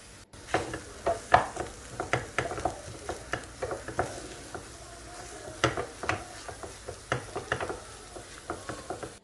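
Chickpeas and potato are stirred and sautéed in a hot pan with chili flakes and black pepper, giving a steady soft sizzle under repeated scraping strokes of a spoon, close and moderately loud.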